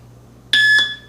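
A single sharp electronic beep from a shot timer app, loud and close, with a bright steady tone that cuts off cleanly over faint background hum.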